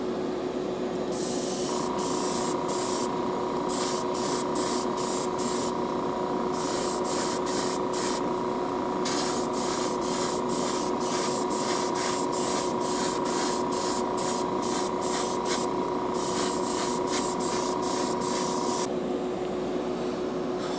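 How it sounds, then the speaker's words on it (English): Airbrush spraying red paint onto a Hot Wheels die-cast car, a steady continuous hiss running nearly twenty seconds, broken by rapid rhythmic bursts of brighter spray pulses from the trigger, close and fairly loud with no talking. "Airbrush is back, working good."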